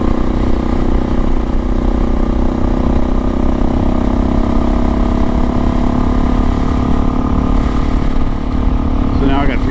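A modified Suzuki DRZ400S dual-sport motorcycle runs steadily on an off-road ride, its single-cylinder engine droning at a constant, loud pitch with a slight rise near the end and wind rush throughout.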